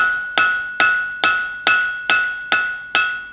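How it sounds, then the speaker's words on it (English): Hammer blows forging a flat section on hot steel at a blacksmith's anvil: eight sharp, ringing strikes in a steady rhythm, each with a bright metallic ring that decays before the next, loud and close with no talk. "I'm just going to forge a flat section on the top, so I've got something to grip with the spanners"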